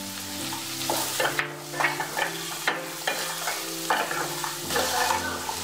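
Chopped vegetables for vegetable poha sizzle in a hot pan as a spoon stirs them, with repeated scraping strokes at a steady rhythm over continuous frying, close and fairly loud, no talking.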